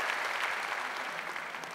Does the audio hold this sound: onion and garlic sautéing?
no